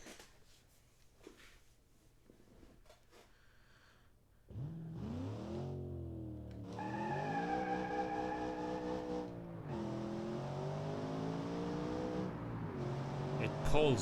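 A car engine in the BeamNG driving game starts after quiet low background noise, then revs and pulls hard through rising and falling tones, loud and steady to the end.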